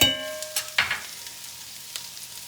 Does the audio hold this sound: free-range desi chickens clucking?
no